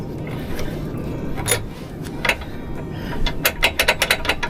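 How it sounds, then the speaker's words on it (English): A metal safety pin slid into a trailer hitch on a truck, a run of rattling clinks and scrapes that builds into a quick series of sharp metallic clicks near the end, close up. "Gotta make sure you put this pin in place too."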